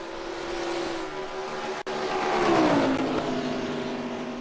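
Race cars circle behind the pace car at Chicagoland in NASCAR Racing 2003, a sustained engine drone that swells as a car passes close and its pitch drops away, with a brief cut in the middle.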